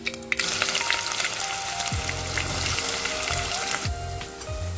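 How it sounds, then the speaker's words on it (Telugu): Chopped onions frying in hot oil with fenugreek and mustard seeds, a loud continuous sizzle with occasional stirring scrapes, close by and alone. "వేసుకున్నాక ఇవి గోల్డెన్ బ్రౌన్ కలర్ వచ్చేదాకా ఫ్రై చేసుకోవాలి"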